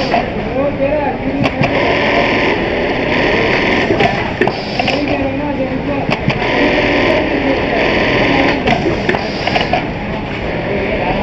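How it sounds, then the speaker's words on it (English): A Brother RH-9820-A eyelet buttonhole machine runs loudly and continuously, its mechanical whir rising and falling in cycles with sharp clicks and clatters, while someone talks over it. "brother eyelet machine, the best eyelet machine in the world"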